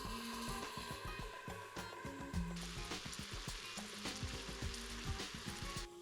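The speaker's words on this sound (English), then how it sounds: "now that the beef is browned" Beef browning in an Instant Pot on the saute setting: a steady, close sizzle of frying meat with scattered pops and crackles throughout.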